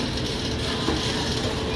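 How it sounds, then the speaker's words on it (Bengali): The Agnibina Express, also called the Coalfield and Santiniketan Express, pulls out of Howrah station on Indian Railways, giving a steady, dense rumble of rolling train noise throughout. "এইমাত্র হাওড়া স্টেশন ছেড়ে যাচ্ছে।"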